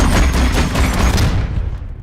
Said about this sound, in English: the amp suit has to sound like the most massive cannon you ever heard